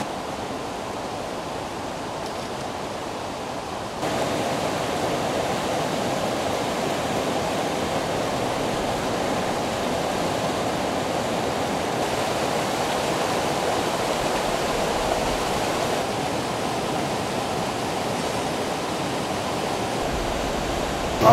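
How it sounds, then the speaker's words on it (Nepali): Water from the Melamchi tunnel flushing gate in Nepal rushes out in a steady, broad roar, continuous and moderately loud, stepping up slightly in strength after a few seconds. "यो हजुरहरूले अहिले देखिराख्नु भएको जो पानीको फ्लो जुन आइरहेको छ, यो भनेको चाहिँ फ्लसिङ गेटबाट फ्लस आउट भएर निस्केको पानी हो।"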